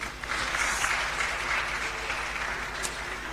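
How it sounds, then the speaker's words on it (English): Steady applause from a crowd, a dense wash of clapping that holds evenly throughout with no voices standing out. "A round of applause for her."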